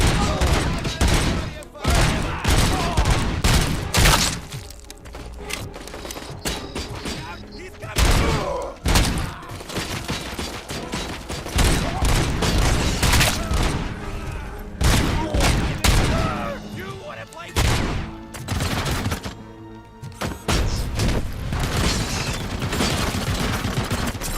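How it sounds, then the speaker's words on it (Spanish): Dense bursts of gunfire in Robocop: Rogue City, with repeated loud shots and rapid volleys in uneven clusters, continuing over a long stretch with thuds and impacts, while a voice talks at times. "¿Qué me está disparando tanto, tío?"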